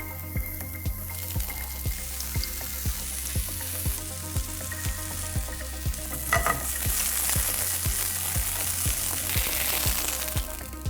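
Chicken meatballs for butter chicken frying in an oiled pan, a steady close sizzle with a regular series of soft taps or clicks repeating roughly every half second, plus a brief louder clatter near the middle.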